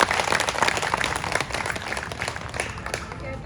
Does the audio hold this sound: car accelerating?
no